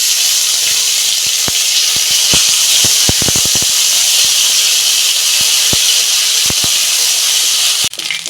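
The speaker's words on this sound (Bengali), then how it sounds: "এই যে আদা রসুনটা আমি ভেজে নিয়েছি" Ginger-garlic paste fries in a hot pan with a constant loud hiss and sizzle, scattered with sharp ticks and pops of spattering oil, and a brief clatter near the end.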